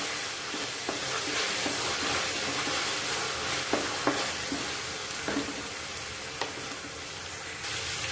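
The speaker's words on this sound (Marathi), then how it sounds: "त्याच्यामध्ये हिरवी मिरची आणि आलं ह्याचा ठेचा घालायचा आणि तो छानसाठी परतवून घ्यायचा" A crushed green chili and ginger paste sautés over cumin in a pan with a soft, steady sizzle and occasional stirring taps. It is fairly quiet and close, with no talk.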